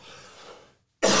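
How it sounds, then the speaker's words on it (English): A tickly cough from a podcast host, a single close, loud, harsh burst after a short stretch of breathy throat noise and a moment of silence. "I could not stop that tickly cough"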